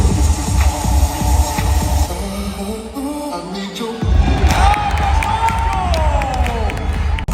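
A gymnastics show audience cheers and shouts loudly, the crowd roar dipping briefly before swelling again, with a voice calling over it.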